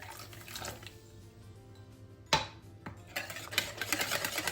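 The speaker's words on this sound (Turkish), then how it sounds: "İçerisine şöyle bir çay bardağı yani 125 mililitre olacak şekilde soda ekliyorum" About 125 ml of soda water is poured into a whisked egg mixture for potato roll börek. A soft fizzing trickle of liquid rises after a sharp clink of glass on the bowl, close and quiet, with no voices.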